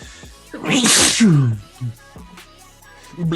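A single loud, close human sneeze with a sharp breathy burst and a brief voiced tail, followed by quieter sounds.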